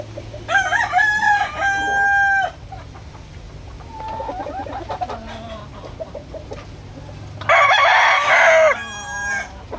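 A gamefowl rooster crows twice, loud and close: one long crow at the start and another near the end, with quieter clucking and farmyard murmur in between.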